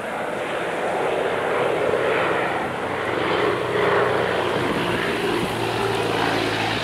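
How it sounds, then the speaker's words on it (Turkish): A firefighting propeller airplane drones overhead above a wildfire in Datça, with a steady, moderately loud engine hum that swells and fades slightly over several seconds. "Uçaklar o tarafa döndüğüne göre"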